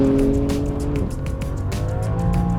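A 2021 BMW M4 Competition driven hard on a track in track mode, its engine roaring loud and close with rising and shifting revs and a steady, aggressive drone throughout.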